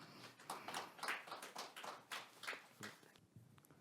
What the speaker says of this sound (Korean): 큰 박수로 맞이해 주시길 바라겠습니다